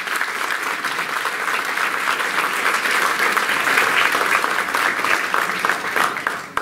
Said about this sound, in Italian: facciamogli subito un grande applauso